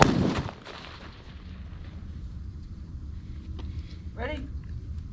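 A rifle volley fired on command at a memorial motorcycle ride, one sharp booming report at the start fading into a rumbling echo, followed by outdoor wind noise and a brief voice.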